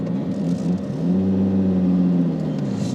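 Nissan R33 GT-R with a Greddy exhaust, tuned to about 700 hp and running E85, holds a steady deep idle rumble that swells slightly midway, close by and alone.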